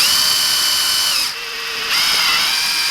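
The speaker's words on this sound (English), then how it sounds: "This drill bit seems so wobbly." An electric drill bores into a crawfish fishing lure, a loud steady high-pitched whine that dips briefly in pitch and strength midway as the bit bites, then picks back up, with no talking.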